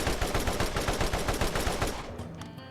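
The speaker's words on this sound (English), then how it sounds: "I think this is a machine gun" Rapid machine gun fire from a weapon in Borderlands, a dense unbroken stream of loud close shots for about two seconds, then trailing off into quieter game ambience.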